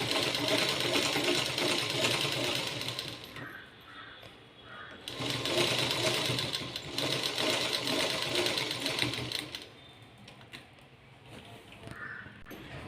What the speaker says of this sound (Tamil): வாங்க இப்போ நம்ம இந்த ஏஜில் ஒரு தையல் போட்டு எடுத்துக்கிட்டு